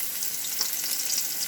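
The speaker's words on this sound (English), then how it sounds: "now on medium heat, we're going to put in the white greenish stalk part of the spring onion" White-green spring onion stalks frying over medium heat, a steady dense sizzle with faint crackles, continuous and fairly close, no one speaking.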